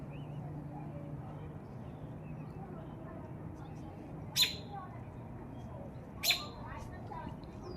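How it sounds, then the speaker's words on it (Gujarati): Birds call from around a house backyard. Two short, sharp chirps stand out against a low, steady background hum, and someone talks quietly nearby. "જો પક્ષીનો અવાજ આવે છે."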